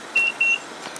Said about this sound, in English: Two beeps indicate locking.